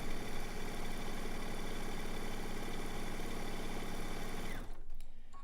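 Close and loud, a sewing machine stitches a zig zag quilt in one continuous run, then stops abruptly near the end, leaving faint handling noise.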